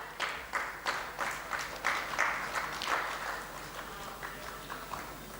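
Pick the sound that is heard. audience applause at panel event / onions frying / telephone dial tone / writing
audience applause at panel event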